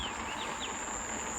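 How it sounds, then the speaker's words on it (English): Birds call from the trees along a Trinidad forest bike route, a few faint chirps and short rising notes over quiet outdoor background. "Sounds of the birds cheer you on."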